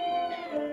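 Pet kitten giving a single close, clear meow in the room, sustained and slightly falling in pitch, heard alone.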